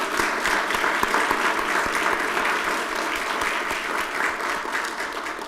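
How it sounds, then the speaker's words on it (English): Sustained applause from the audience at a Durham county commissioners' regular board session, a steady dense wash of clapping from many hands lasting throughout with no talk over it. "Please join me in a round of applause for our commissioners."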